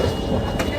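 A local passenger train rumbles steadily for a brief moment, with a continuous broadband roar of moving carriages heard from inside and no voices.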